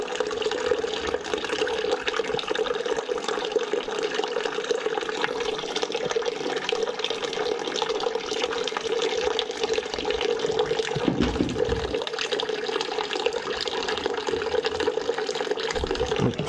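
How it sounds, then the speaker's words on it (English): Dirty water drains out of a neglected, plugged-up steam boiler as a loud, continuous rushing flow that holds steady for about sixteen seconds, easing only briefly partway through. "I'm gonna take this out and drain it."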